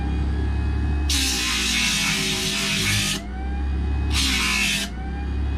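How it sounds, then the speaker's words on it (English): A harsh high-pitched sander whine runs in two bursts, a longer one then a short one, over a low steady background hum. "Now we're just going to run on the sander."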